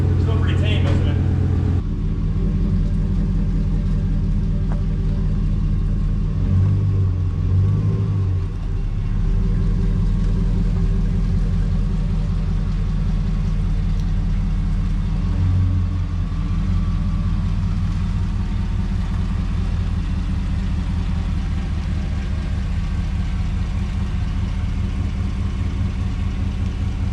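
GMC Sierra pickup with a new exhaust and a 6-inch lift, its engine idling with a steady deep rumble close by, swelling briefly in a couple of revs, while people talk over it throughout.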